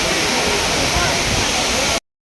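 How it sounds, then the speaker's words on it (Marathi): A waterfall at the Karla caves roars as a steady, loud, broadband rush of falling water that fills the whole clip and then cuts off abruptly. "बघा आता मी तुम्हाला दाखवतोय किती सुंदर धबधबा दिसतोय हा."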